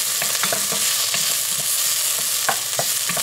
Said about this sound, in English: I like to saute all my vegetables prior to adding to my sauce